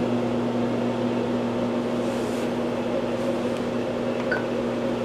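A steady mechanical hum with strong tonal drones and constant vacuum suction noise from a CoolSculpting fat-freezing device, even and unbroken throughout, running close by.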